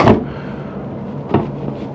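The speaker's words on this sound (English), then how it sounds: "Series of drawers here." Drawers sliding open and shut in the kitchen of a 2003 Holiday Rambler Imperial RV, with two close, brief knocking clunks about a second apart against a quiet room.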